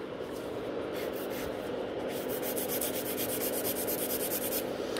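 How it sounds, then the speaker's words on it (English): A nail file works underneath a natural nail beneath acrylic product, making a steady, close, rapid scratchy rubbing that continues without pause and without speech. "So this filing from underneath will also remove any lifting or a splitting of the natural nail from the product"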